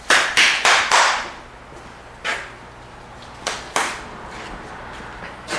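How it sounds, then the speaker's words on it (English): A person claps hands outdoors, a quick burst of four sharp claps at the start followed by a few scattered single claps, fairly close against a quiet background with no talk. "You didn't have to clap for me."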